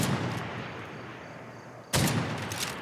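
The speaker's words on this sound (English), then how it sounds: "He's got a mortar station." Heavy weapon fire from a mortar station in Far Cry 5, Hours of Darkness DLC, two loud booming blasts with a decaying rumble between them, close and dominant, no voices.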